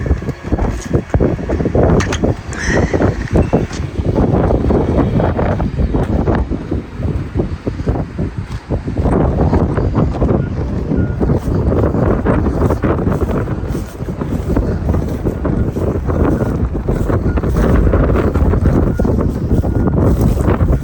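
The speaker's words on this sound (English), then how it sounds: "very windy today" Strong wind at a horse ranch in early spring roars steadily and loudly across the microphone for the whole stretch, a dense, continuous buffeting with brief dips and no speech.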